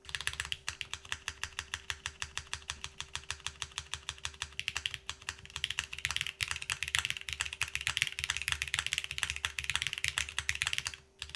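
Rapid, continuous clacking of a mechanical keyboard fitted with Nixie switches and GMK keycaps, dense fast keystrokes with occasional deeper spacebar thocks, close and fairly quiet, no talking.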